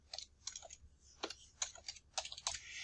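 Typing on a computer keyboard, with irregular bursts of soft, close key clicks and taps over a few seconds and no speech.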